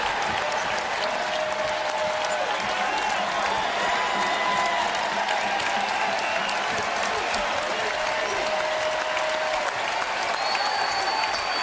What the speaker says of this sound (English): An appreciative round of applause from the crowd here in Tallahassee.